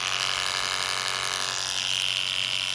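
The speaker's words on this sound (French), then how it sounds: "c'est le bruit de cette tondeuse" Oster Classic 76 cordless hair clipper running steadily with a loud, constant motor buzz and a bright high whine, continuous throughout with no talk.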